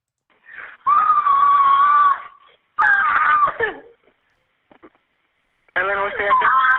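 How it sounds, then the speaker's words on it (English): A frantic woman screams in bursts on a 911 emergency call from a hotel, with long wailing cries separated by brief pauses, heard through a telephone line. "She's just screaming."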